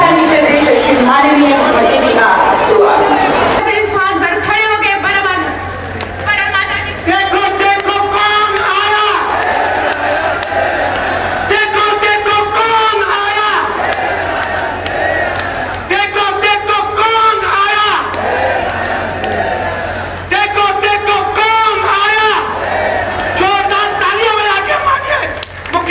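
A large, dense crowd roars and chants at a rally welcoming Chief Minister Yogi Adityanath in Firozabad, with repeated loud rhythmic cheering swelling throughout and voices shouting over the continuous din.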